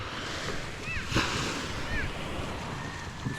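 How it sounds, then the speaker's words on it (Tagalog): Calm sea waves wash steadily under a broad rush of wind on the microphone, a continuous soft surf with faint whistling tones in between. "Maganda ang umaga ngayon at napakakalmado ng dagat."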